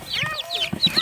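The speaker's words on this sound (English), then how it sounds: "we're moving the chickens into the fixed coop" Chickens clucking and squawking in short, close bursts as they are moved into a fixed coop, with brief overlapping calls and low background noise.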